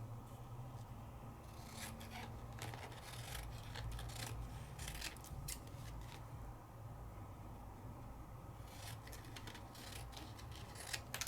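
Scissors snip and rub through a vinyl or paper sheet in a quiet craft room, with close irregular bursts of cutting strokes separated by short pauses and no speech.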